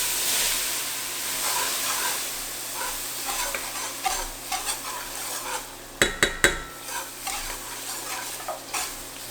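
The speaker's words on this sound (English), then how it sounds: "Once you get your roux to the color you want, this has basically been about 20 minutes or so. I'm going to go ahead and toss in my Holy Trinity." Holy Trinity vegetables dropped into a dark gumbo roux for chicken and sausage gumbo, with a loud sizzle and frying hiss under repeated stirring, a few sharp spoon clacks against the pot midway, close up and without talk.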